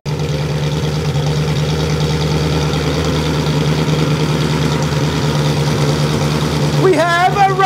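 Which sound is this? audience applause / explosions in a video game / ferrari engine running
ferrari engine running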